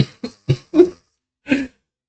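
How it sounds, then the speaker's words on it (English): A quick burst of four dry coughs followed by a pause and one more, close and fairly loud, from a person coughing between stretches of conversation. "Except stop coughing."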